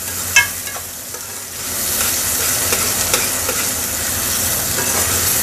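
Tomatoes fry hard in oil over high heat for a restaurant-style urad dal mash, giving a steady loud sizzle with a sharp burst as they go in and occasional stirring scrapes.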